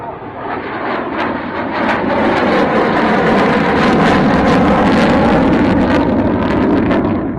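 Fixed-wing display plane at the RAF Waddington airshow, its engine roaring loud and steady as it completes a full turn and begins to climb, a continuous broad drone that swells slightly, with wind buffeting on the microphone.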